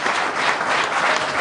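At a Diwali poetry gathering, the audience welcomes the poet Kunwar Javed with a thick, continuous burst of clapping, loud and close, filling the brief moment without speech.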